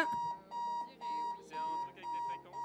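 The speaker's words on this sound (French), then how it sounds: "Là, il y a un réveil qui sonne." Repeated bursts of an electronic alarm clock ringing in a bomb defusal video game, steady tonal beeps arriving in about five regular pulses, loud and close, with faint background sounds beneath.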